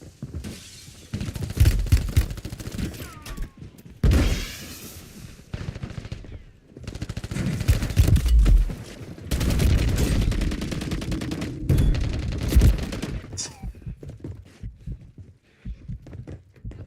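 Bursts of gunfire in a Warzone battle royale match, loud clustered volleys and rapid shots separated by brief quieter gaps, close and dominant with almost no talking.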